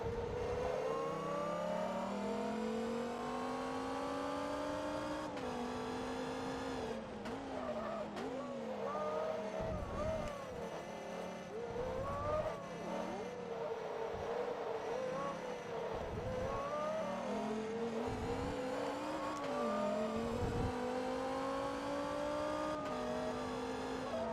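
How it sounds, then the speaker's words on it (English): A race car in the Forza Motorsport 2 video game, the engine screaming and rising through repeated high-pitched revs and gear shifts, with tire squeal, continuous and loud throughout. "just listen to that car scream as it pulls away."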